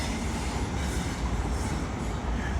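Class 43 power car 43.303 passing at Doncaster on the East Coast Main Line, a close, loud continuous roar of engine and rolling wheels with a rhythmic rattle throughout.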